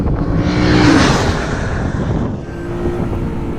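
A Lexus RC F Track Edition's 5-liter V8 roars steadily on a race track, a loud, continuous engine drone mixed with heavy wind rush throughout.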